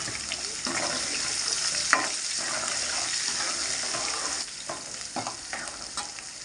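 Garlic, cumin and dried red chillies frying in a pan, a continuous close sizzle with scattered crackles and spatula scrapes, easing slightly toward the end; no voices.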